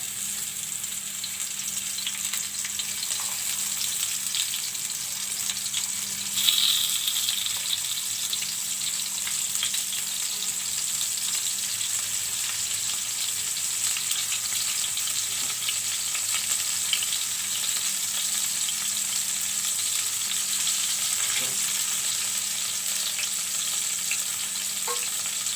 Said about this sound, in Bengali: মাছগুলো তেলে ভেজে নেব।